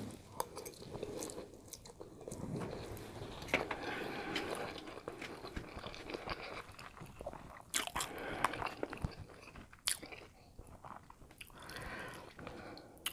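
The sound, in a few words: eating black bean noodles with shrimp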